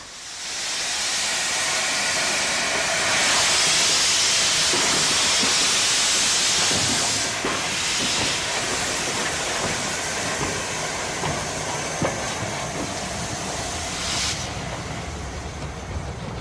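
LNER Class A4 steam locomotive 4468 Mallard crossing the River Nid near Knaresborough on the Harrogate Circle line, a steady broadband rumble and hiss that swells and holds for about sixteen seconds, heard from a distance without any voices.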